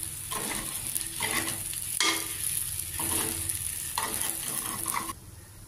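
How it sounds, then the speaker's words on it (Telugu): Stuffed ivy gourds fry with a steady close sizzle while a utensil stirs them around the pan in repeated scraping strokes, with no talking. "2 మినిట్స్ మనం కనుక దీంతో పాటు ఇలా ఫ్రై చేసుకుంటే మిక్స్ చేసుకుని సరిపోతుంది"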